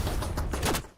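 Gunfire from gunners in Fallout 4 VR, a short dense volley of shots close by and fairly loud, cutting off abruptly at the end with no talking.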